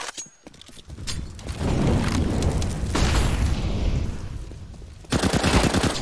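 A flashbang grenade bursts in a CS:GO match, a loud booming wash that holds for a few seconds amid gunfire and mechanical clatter, followed by a renewed burst of shots.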